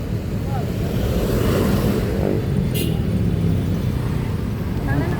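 Steady roar of busy street traffic with many vehicles passing close by during a crowded Catholic devotees' procession for the Black Nazarene, continuous and loud, with people talking nearby.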